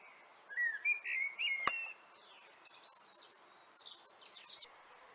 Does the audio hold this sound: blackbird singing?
yes